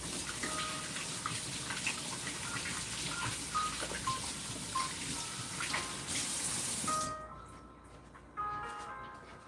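Water runs from a kitchen tap as hands are washed, a steady splashing hiss with small clinks, then the flow cuts off and some dripping and light handling follow.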